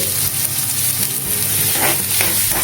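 Onion frying in a pan of hot oil while being stirred, a steady dense sizzle with scraping stir strokes throughout, close and fairly loud, no voices.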